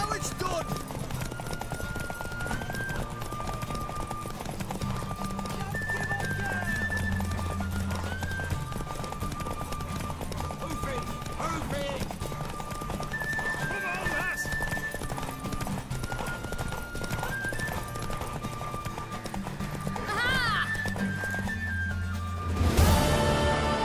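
Horse hooves galloping in The Witcher 3, a steady rhythmic clip-clop under game music and people talking, with occasional whinnies and a louder burst at the end.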